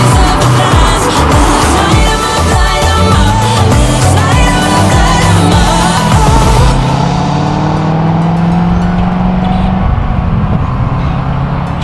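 An orange 2008 Corvette Z51 C6 with a naturally aspirated V8 roars loudly and continuously as it revs and accelerates hard through the gears, engine pitch rising and falling.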